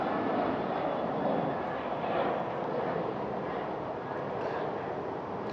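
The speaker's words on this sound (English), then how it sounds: "an airplane was going by" A steady, loud broadband roar of a fixed-wing airplane passing overhead fills the whole stretch without a break, with no voices over it.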